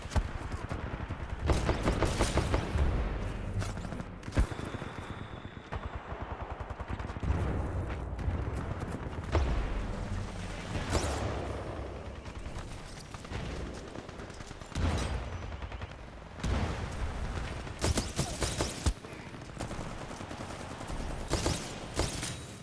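Rapid smart pistol gunfire in the shooter game Titanfall 2 crackles in repeated bursts over dense in-game action and impacts, loud and close throughout.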